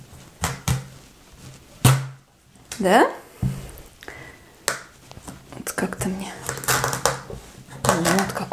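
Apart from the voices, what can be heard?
crunchy starchy raw pumpkin being cut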